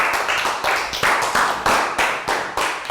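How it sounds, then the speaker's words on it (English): Classroom applause from a group of young pupils in a Year 3 maths lesson: a burst of close, lively clapping with rapid overlapping hand claps and rhythmic accents that swell and fade across the few seconds. "Round of applause for Pat."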